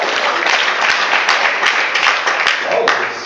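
Comedy club audience at Gotham Comedy Club in New York clapping for the host, a dense wash of applause filling the room for about three seconds with a few sharper claps standing out.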